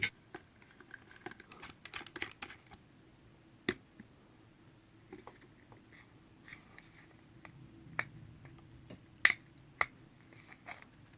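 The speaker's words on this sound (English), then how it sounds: "I'll get the canopy off. Get a couple of screws here." Small screws being backed out of a Youbi XV-130 micro drone canopy, with quiet scattered ticks and clicks close up over a faint low hum and no talking.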